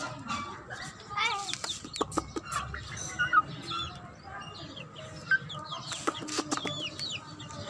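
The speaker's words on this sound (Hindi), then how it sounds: "ये मुर्गी हैं" Aseel and desi hens with newly hatched chicks in a backyard setup, clucking and chirping intermittently at close range, with a voice talking over the birds throughout.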